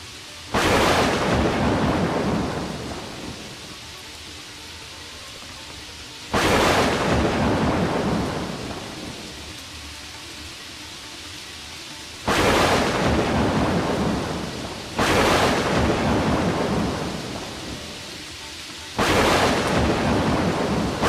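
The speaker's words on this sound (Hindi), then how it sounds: "बारिश काफ़ी ज़ोर से हो रही है और बिजली भी कड़क रही है।" Heavy rain pours steadily on the Vaishno Devi pilgrimage route in cold weather, broken by four loud, close thunderclaps that crack sharply and rumble off over a few seconds each, with the downpour hissing between them and no voices.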